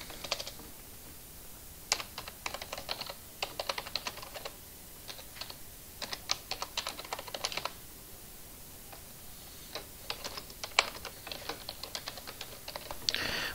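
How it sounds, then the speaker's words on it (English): Code is typed on a computer keyboard in quick, irregular bursts of soft, close key clicks with short pauses between runs, fairly quiet throughout. "Next thing you're going to do is type this code in."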